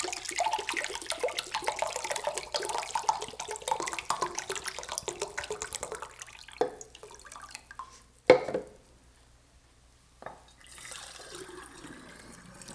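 About one and a half cups of hydrogen peroxide poured through a funnel, a steady liquid gurgle and splash lasting several seconds before it stops, followed by a few faint clicks and handling noises.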